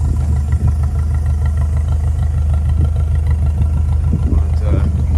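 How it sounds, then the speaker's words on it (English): A 1968 Saab 96 Deluxe with its V4 engine idling, a loud, steady low rumble heard up close with faint clatter and no talk. "Hear the motor running, and the car really drives nice."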